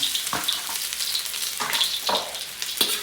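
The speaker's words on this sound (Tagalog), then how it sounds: "So ito guys, gisa tayo ng luya." Ginger sautéing in hot oil in a wok-style pan, a steady close sizzle broken by several scraping stirs, with no talking.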